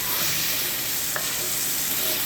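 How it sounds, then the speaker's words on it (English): Shallots brown in a pan, a dense, even, close sizzle with one brief utensil tap partway through and no voices. "We're going to get these shallots a golden brown, folks."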